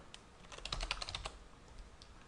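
Fingers tap a computer keyboard in a short quiet burst of quick clicking keystrokes that thins out toward the end, with no voices.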